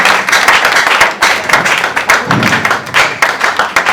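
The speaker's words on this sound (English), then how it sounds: "Clap harder if you get a few." An audience at a book launch claps loudly and continuously, with dense, overlapping hand claps and small clappers at close range and no speech.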